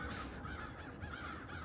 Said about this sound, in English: There's a lot of crows.